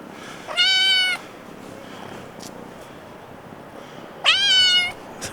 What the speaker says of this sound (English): You're just a kitten.